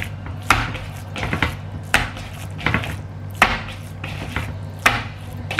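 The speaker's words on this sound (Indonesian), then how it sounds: "Ini gendong satu dipukul-pukul biar lebih kenyal ya." Ground fish dough is slapped and pounded by hand to make it chewy, giving a series of soft, dull thuds in an irregular rhythm, close by and fairly quiet, with no talking.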